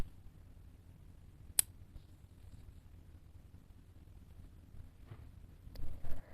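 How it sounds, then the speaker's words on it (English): Scissors snip through crochet yarn in a quiet room: one sharp, close click-snip early on and another a few seconds later, each brief and isolated against near silence, with faint handling rustle near the end. "Cut the yarn."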